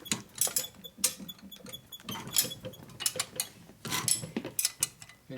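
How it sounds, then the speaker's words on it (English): A double box wrench tightens a bolt on a Harley Shovelhead motor during a rebuild, giving a series of close, irregular metallic clicks and ratcheting knocks in quick bursts. "Now the other way is you can use your double in box wrench"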